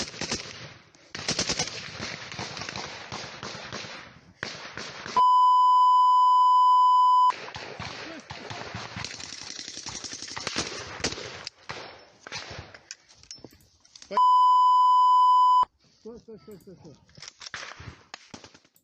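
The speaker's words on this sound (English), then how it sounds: "He's firing on the dudes he was just fighting next to." Bursts of automatic gunfire from a soldier shooting in war footage, rapid rattling volleys at moderate distance, broken up by two long steady censor-style beeps and some talk in between.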